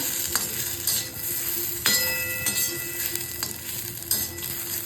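Steady sizzling of vegetables and spices roasting in a hot pan, with repeated scraping and stirring strokes, a few sharper clinks of a spatula against metal, close and fairly loud.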